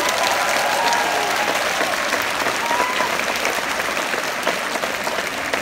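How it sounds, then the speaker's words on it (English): Sustained, dense applause from an afternoon choir concert audience, a steady wash of hand claps thanking the accompanists, loud and even from start to finish with no talk over it. "can we please have a huge round of applause for our accompanists this afternoon?"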